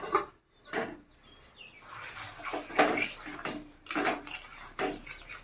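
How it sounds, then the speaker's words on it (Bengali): A cooking pot of bitter gourd, potato and fish head curry has its lid lifted off, with metallic clanks and scrapes of the lid against the rim, close and fairly loud, amid a few quieter knocks. "আমি এখন ঢাকাটা খুলে নিই।"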